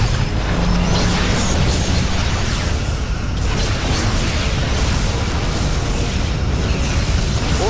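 A Borg vessel blows apart in the Star Trek Legacy game, a loud, sustained roar of explosion and crashing debris filling the whole stretch without a break.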